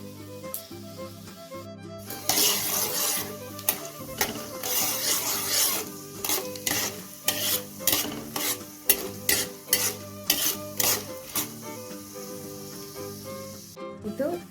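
Urad dal frying in a pan while a spoon scrapes and stirs it, with repeated sharp scraping strokes over a soft sizzle, growing busier in the second half.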